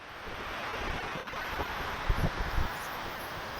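Fine water spray blowing off Neyyar Dam in Trivandrum makes a steady, close, breathy rush like wind and surf, continuous throughout with slight gusty swells and no voices.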